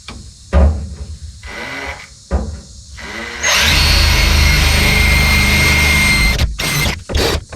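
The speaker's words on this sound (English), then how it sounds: "mark it up, drill the holes, and get it mounted to the firewall" A power drill whirs in short bursts drilling holes in a firewall bracket for an International C1100 pickup, then runs hard for about three seconds before stopping, with brief knocks and handling noises around it.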